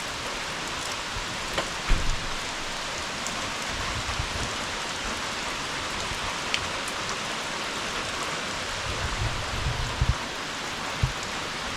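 Steady rain falls outside an off-grid cabin with a soft continuous hiss, a few louder drips and taps scattered through it, with no voices.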